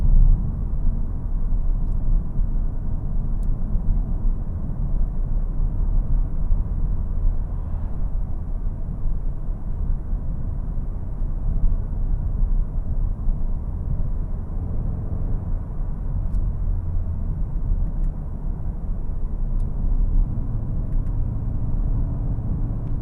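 A 2025 Audi S3 Sportback heard from inside while driving, with a steady low engine drone and road rumble throughout, no speech.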